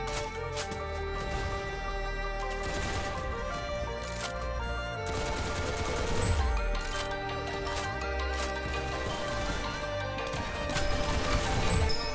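Rapid gunfire from the Roblox game Arsenal rattles in dense bursts with crashing impacts, steady and loud over a busy game mix throughout.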